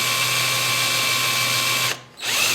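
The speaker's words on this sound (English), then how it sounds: "we're going to spin it with a drill" A power drill whirs at a steady high pitch while spinning the transmission pulley of a Toro Personal Pace self-propelled lawnmower, stops briefly, then spins up again, close and loud with no talking.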